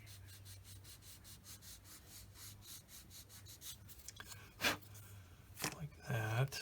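A 400 grit sanding stick rubbed back and forth on a small 1/35 scale plastic model truck part, quick even scraping strokes close up and quiet, with a few louder scuffs and handling noises near the end.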